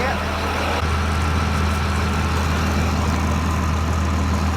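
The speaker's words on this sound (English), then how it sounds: "That bus was running right on the side of us." A bus idles close by, its low steady engine rumble running unbroken at constant loudness throughout.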